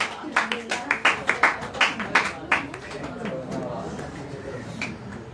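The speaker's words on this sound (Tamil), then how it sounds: "கைதட்டுங்க பார்க்கலாம்." A church congregation claps in a burst of sharp, uneven hand claps that thins out after a few seconds, leaving a murmuring room with some voices in the background.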